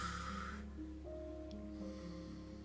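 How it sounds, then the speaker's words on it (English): A brief, rough throat clearing from a character in the video game The Pale Beyond, lasting under a second at the start, then giving way to soft sustained game music tones. "You clear your throat."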